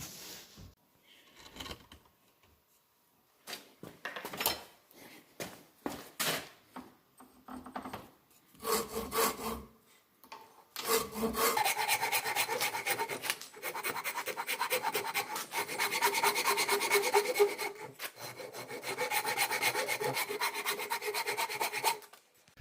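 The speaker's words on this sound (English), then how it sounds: "I filed it and whittled it down with a knife" Wooden handle of a Ka-Bar knife being filed and rasped: scattered scraping strokes at first, then long stretches of sustained, rhythmic close rubbing and rasping.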